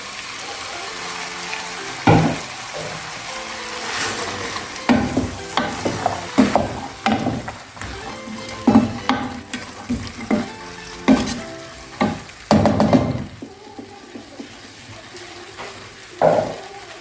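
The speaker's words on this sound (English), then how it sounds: "And lastly, I will add in my pre-boiled peas." Pre-boiled peas tipped into a curry-spiced stew, followed by repeated stirring with scrapes and clatters against the pot under a steady simmering sizzle, close and fairly loud.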